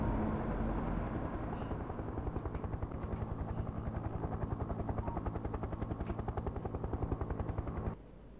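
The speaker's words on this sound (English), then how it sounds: "Oh look, there's a helicopter." A helicopter in the game Factorio passes overhead, its rotor beating in a fast, even chop under a broad engine roar, loud and steady before cutting down sharply near the end; no talking.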